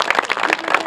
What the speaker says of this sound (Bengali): তার প্রতি একটা জোরে করে সবাই হাততালি দেবেন।